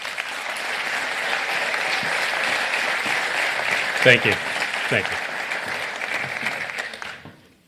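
Audience applause at a technology conference talk, steady clapping from a crowd that builds and then fades out, while a speaker's voice says thanks over it near the end.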